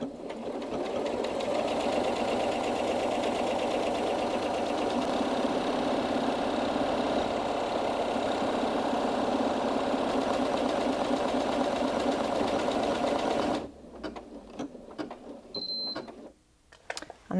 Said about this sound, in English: all I need to do now is just put my foot down on the foot control and off we go